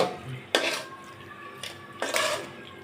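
Coconut mixture for homemade coconut naru stirred in a metal pan on the stove, with two or three sharp scraping clanks of the spoon against the pan over a quiet background.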